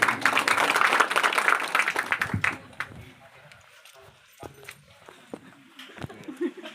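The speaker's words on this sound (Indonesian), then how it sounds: "tepuk tangan sekali lagi" An audience applauds at an official inauguration ceremony, loud, dense clapping that fades after a couple of seconds into scattered claps and room noise with a voice speaking.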